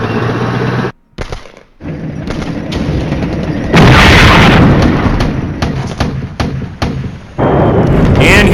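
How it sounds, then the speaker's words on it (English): Artillery bombardment in the wargame Flashpoint Campaigns: heavy booms and rolling explosions, close and loud, with a brief lull near the start and a sustained barrage crashing in mid-way and again near the end. "And here's our artillery, guys."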